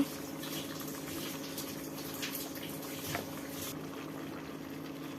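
Water is poured into a cauliflower, capsicum and potato curry in a pan, a steady soft liquid pouring and bubbling sound running throughout at close range with a low constant hum beneath, no voices.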